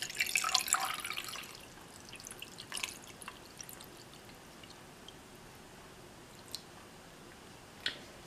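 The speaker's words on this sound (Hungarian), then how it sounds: "Ha vizet töltünk a külső üvegpohárba" Water poured into an outer glass beaker around a test tube in a tabletop science demonstration, a splashy pour in the first second or so, then a few faint, isolated drips in a quiet room.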